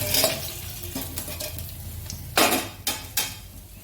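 A hilsa fish head frying in hot oil, a steady close sizzle broken by a few sharp scraping and knocking strokes of a spatula in the pan, with no voices.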